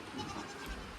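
A goat in a barn gives a short, muffled bleat, brief and fairly quiet against a soft background, with no talking.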